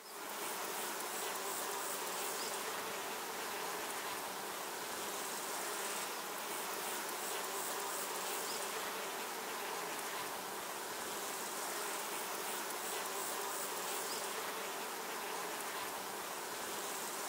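Honeybees from a beekeeper's hives in a rural Polish district buzz in a dense, continuous drone, loud and steady throughout with no talking.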